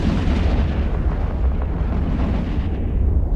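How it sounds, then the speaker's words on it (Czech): A deep, rumbling explosion rolls through a space-battle video game fleet fight, loud and sustained for several seconds with heavy low-end boom and no talk over it. "Výbuch."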